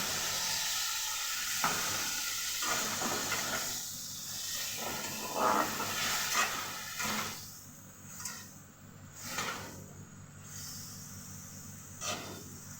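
Garlic and dried red chili paste frying with chicken in a pan, a close hiss and sizzle broken by stirring scrapes and bursts that swell and fade in uneven pulses, no talking.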